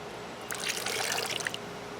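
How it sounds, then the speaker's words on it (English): Washed raw wool being gently squeezed by hand after a rinse, giving a brief burst of close, soft watery trickling and dripping that lasts about a second and then stops. "Squeeze out as much water as I can get."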